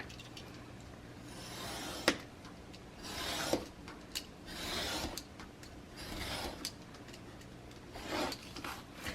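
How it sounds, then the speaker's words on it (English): Scissors or a blade trim away an excess top piece of paper or card in a craft project, giving close, quiet rasping cuts and rubs in uneven strokes with a few small sharp clicks between them. "I'm going to trim this excess top piece away."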